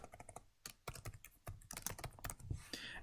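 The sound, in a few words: typing a heading on a computer keyboard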